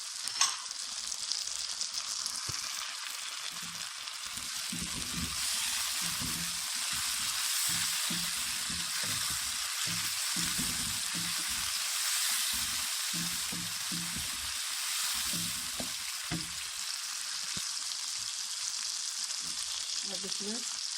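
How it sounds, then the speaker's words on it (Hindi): Tomatoes hit a pan of browned ginger, garlic and onion for a matar aloo curry, setting off a loud, steady sizzle and frying hiss that continues close up throughout, with faint stirring. "अब इसमें टमाटर डालेंगे"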